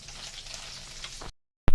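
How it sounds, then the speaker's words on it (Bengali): Steady close sizzling of eggplant slices frying in oil, cut off abruptly into silence, then a brief loud thump. "দেখো বেগুন ভাজা হচ্ছে হতে থাক"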